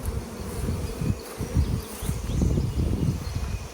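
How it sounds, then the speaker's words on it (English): Robbing honey bees swarm around opened hives in a nectar dearth, a dense continuous buzz close to the microphone with individual bees droning past, no voices. "The bees are trying to rob."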